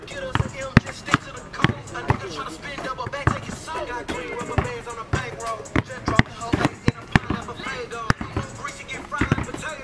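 A basketball dribbled on an indoor court during a footwork drill, sharp rhythmic bounces repeating steadily and loud up close, with a voice talking over them throughout.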